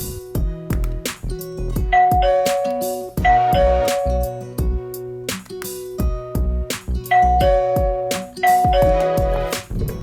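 A HomeKit smart doorbell set up with an Aqara mini switch button sounds its chime repeatedly, a loud, clear ding-dong melody of ringing bell tones that plays over and over through the stretch.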